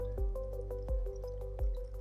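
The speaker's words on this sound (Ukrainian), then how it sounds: "трішечки капає мені тут" Melted beeswax drips from a BeeStar centrifugal wax melter in slow, evenly spaced drops, three soft plops close by over a steady humming background.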